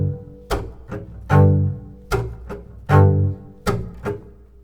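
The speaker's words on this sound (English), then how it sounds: "I can do the same thing when I'm trying to add that upstroke at the end of my chop" Double bass chops with an added upstroke alternate in a loose rhythm, heavier muted thumps followed by lighter quick flicks, close up with no talking.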